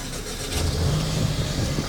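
Game car engine revving and pulling away, a steady mid-pitched drone with a rising tone, close and fairly loud throughout, no voices.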